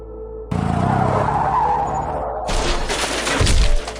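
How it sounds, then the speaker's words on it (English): A Volkswagen Beetle skids off the road and overturns: a loud, rough scraping skid runs for about two seconds, then a harsher crashing, tumbling burst of impacts follows and cuts off abruptly. "The car overturned violently."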